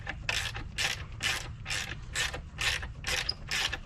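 A ratchet wrench loosens a bolt during car alternator removal, giving about eight rhythmic, evenly spaced clicking strokes, close and clear with no talking.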